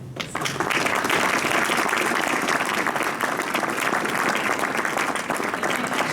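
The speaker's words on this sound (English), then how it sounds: "I just want to give you a round of applause" A conference audience at a conservation economics event applauds, a dense, steady wash of clapping from many hands that holds evenly for about six seconds.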